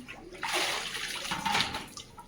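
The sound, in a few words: priest filling a copper pot with water at a temple well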